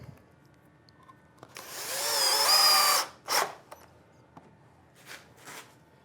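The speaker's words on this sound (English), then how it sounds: "I'm going to screw that second screw into the upright." A power driver sinks a screw into a wooden trestle upright: one sustained whirring run of about a second and a half, then a few short, sharp bursts, close up in a quiet workshop.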